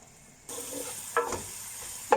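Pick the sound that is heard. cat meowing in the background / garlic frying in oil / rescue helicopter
garlic frying in oil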